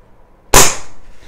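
A Legends cowboy lever-action CO2 air rifle fires a single sharp, loud shot after a brief silence. The crack is close, and its tail fades quickly over the next second.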